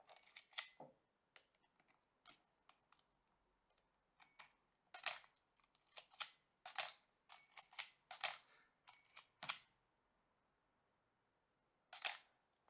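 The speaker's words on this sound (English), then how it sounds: "I'm just going to give you guys a shutter sound test, front and back" A Minolta XD5 35mm SLR film camera shutter fires again and again in crisp mechanical clicks, some single and some in quick pairs, with short silences between and one last click after a pause.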